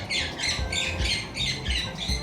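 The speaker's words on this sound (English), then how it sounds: "It's a noisy bird, that's for sure." A noisy pet bird indoors gives a run of harsh, close, repeated squawks in a steady pulsing rhythm, heard alone.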